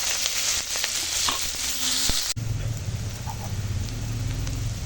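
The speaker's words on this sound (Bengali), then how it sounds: "এখন পেঁয়াজ রসুন লঙ্কাটা ভাজা হয়ে গেছে" Onion, garlic and chili sizzle and crackle in hot oil, a steady frying hiss that shifts in texture partway through, close and fairly quiet.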